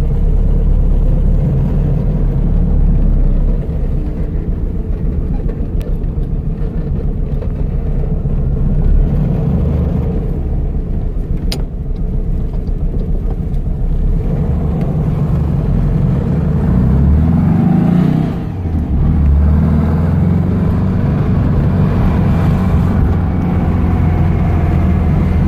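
A 1970 Baja Bug with a 2276cc engine and stock IRS transmission cruising along, its steady loud engine drone and road rumble filling the whole stretch, with a brief dip in the noise partway through.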